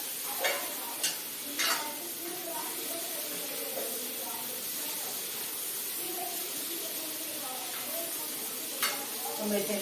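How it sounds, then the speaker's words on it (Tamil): Boiled black chickpeas stir-fried with salt in a pan, giving a steady soft sizzle with scraping stirs and a few sharp clinks of the utensil, close and moderately loud. "அதனால நம்ம இப்படி வறுக்கணும்."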